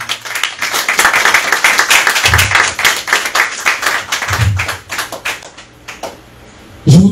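A church congregation applauding to acclaim the name of the Lord, sustained dense clapping from a crowd that swells and fades before a voice returns at the end.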